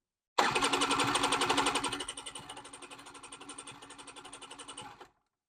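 A Honda Spree NQ50 scooter engine cranks steadily but fails to start, a close, rapid, buzzy chugging that runs continuously and drops in loudness partway through before cutting off.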